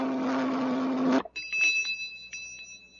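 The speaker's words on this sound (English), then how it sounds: "The better it tastes, the louder it'll ring the bell." A bell on a flavor-testing machine in an old-time radio science-fiction show rings with a few light, high metallic tings that decay after a loud buzzing hum cuts off.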